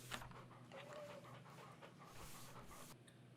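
Dogs pant in the survival game The Pale Beyond, a quick rhythmic huffing that stays faint and continuous over a low background hum.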